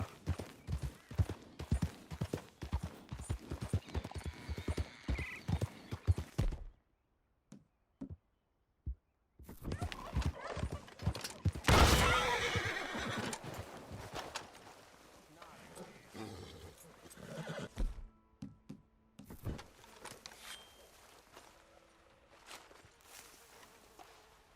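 Hooves clip-clop in a running rhythm from a horse in the video game Red Dead Redemption 2, loud and close, with a brief silence midway, then a burst of noisy snorting or neighing and more hoofbeats as someone speaks over it.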